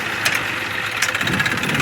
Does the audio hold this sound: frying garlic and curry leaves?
no